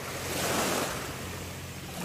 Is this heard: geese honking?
no